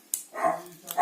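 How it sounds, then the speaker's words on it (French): A guard dog lets out two or three quick barks and yips at close range, short and punchy against a quiet background. "le chien de garde, il est là."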